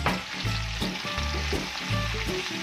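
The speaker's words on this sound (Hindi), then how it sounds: "बस हम 30 सेकंड के लिए हम बस इसको फ्राई करेंगे" Ginger, green chilies and capsicum stir-fry in a hot pan, a steady loud sizzle with repeated scraping strokes of the spatula in an even rhythm, close up and with no talking.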